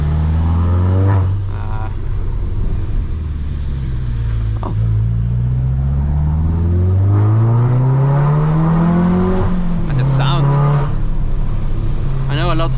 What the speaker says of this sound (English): A lot of people don't like the Golf sound